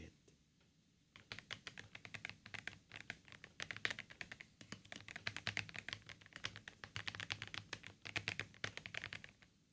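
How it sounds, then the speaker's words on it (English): A linear mechanical keyboard is typed on close to the microphone, with rapid, crisp, smooth keystrokes in irregular bursts after a brief quiet start. "It's linear but so smooth."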